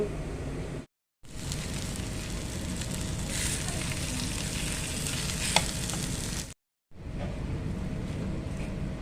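Onions sizzle and crackle steadily in hot oil for a potato tempering, a continuous close frying hiss broken by two brief silent gaps.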